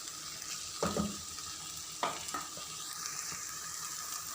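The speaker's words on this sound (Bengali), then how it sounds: "টমেটো দিয়ে ঢেঁড়স ভাজি কিন্তু অনেক ভালো লাগে।" Okra frying in a pan with tomato, dried hilsa fish powder and yogurt, giving a steady sizzle with a few louder bursts of stirring and scraping, close by, with no talk.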